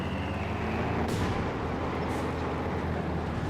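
An anti-infantry strafing run in Company of Heroes 2 roars as a dense, continuous wash of gunfire and explosions, with sharp bursts of impacts standing out against the sustained battle noise, no voices heard.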